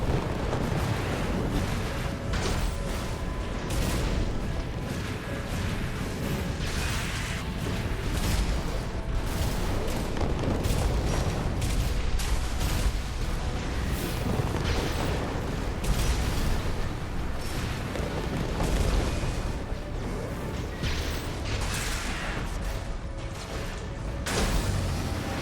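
Missile blasts in the mech combat game Armored Core 6, a dense, continuous roar of booms and mechanical clatter filling the whole stretch at steady high loudness, with no clear gaps between impacts.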